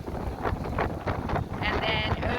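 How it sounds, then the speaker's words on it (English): Strong wind buffeting the deck of a boat on the water near the Atlantic Beach Bridge in North Carolina, a constant roaring rumble that shakes the microphone, with a voice faintly present underneath. "the wind is crazy out here"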